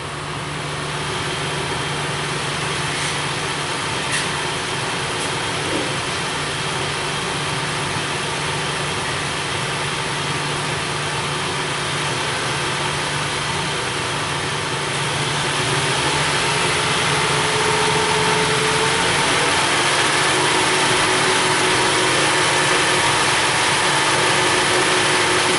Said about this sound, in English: Let me go ahead and give this car some throttle here.